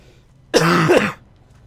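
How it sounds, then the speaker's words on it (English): A single harsh, throaty cough with a voiced rasp, close and fairly loud, from a person who is slightly ill, heard alone over a faint background. "Sorry for the coughing, I'm still a little bit ill."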